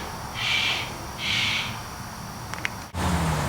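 A pet cockatoo calls twice from the background in a room with a model railroad layout, giving two short, piercing, sustained cries over a steady low hum.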